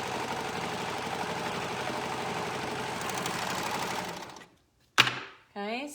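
A sewing machine runs steadily for about four seconds while stitching the side edge of a fabric cuff. Its close, even mechanical whir stops abruptly, followed by a short clatter and a brief voice.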